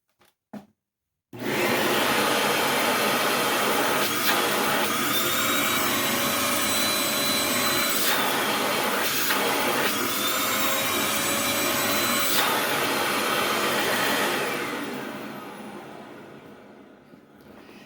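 A Hoover Elite Rewind Plus vacuum cleaner runs a suction test, its steady loud motor whine holding for about thirteen seconds, with brief dips and pitch shifts as the suction changes, before winding down.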